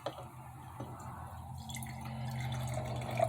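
Water drips into a cup used for rinsing paint brushes while painting a miniature quidditch field, as a few small close drips over a low background hum.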